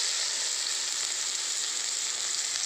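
Chopped onion sizzles in hot oil with crushed garlic, a steady close, loud frying hiss that holds evenly throughout with no talking.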